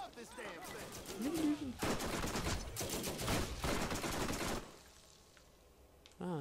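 Rapid gunfire from a deployable turret in the video game Borderlands, loud sustained bursts over about three seconds with someone talking over the start, then fading to quieter game ambience.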